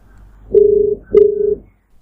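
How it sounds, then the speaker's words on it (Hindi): A mobile phone rings in a silent morgue, two short, loud electronic tones in quick succession, close and alone with no voices. "उसके फ़ोन की घंटी ने मुर्दा घर के शांति को तोड़ दिया।"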